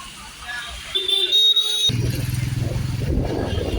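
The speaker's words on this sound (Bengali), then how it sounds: "বর্তমানে আমরা বাইক স্টার্ট দিব" A motorbike starts up on a rainy, flooded road with a brief whine, then its engine settles into a steady, close rumble that carries on, with someone talking over it.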